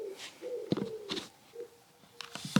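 Soft, hollow cooing from a pigeon lodged in a chimney comes in drawn-out phrases broken by sharp knocks and brief rustles, close and moderately loud in an otherwise quiet indoor space.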